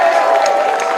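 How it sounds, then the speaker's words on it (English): Audience at a talk event bursts into dense applause with some cheering, one short, loud wash of clapping. "Clap it up for yourselves"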